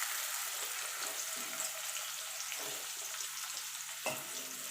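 Potatoes frying in medium-hot oil for a mutton curry, a steady, dense sizzle throughout at close range, with a few soft stirring scrapes and a brief clatter near the end.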